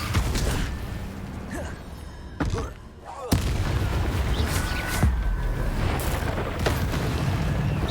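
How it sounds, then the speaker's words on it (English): Incendio fire spells cast in the Hogwarts Legacy video game, repeated whooshing booms and crackling blasts over a dense rumbling battle din, loud and close, with a brief dip before the attacks resume. "Inbury must be struck with fire spells to make him vulnerable to other attacks."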